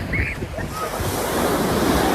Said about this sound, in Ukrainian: На секундочку я вам покажу один з пляжів.